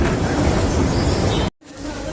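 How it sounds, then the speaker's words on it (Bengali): Interior ambience of Chennai Central Metro Station: a steady, loud wash of broadband crowd and machinery noise that drops out abruptly partway through, then returns more quietly. "দেখো বন্ধুরা যাচ্ছি আমি মেট্রো স্টেশন, ঢুকছি ভেতরে"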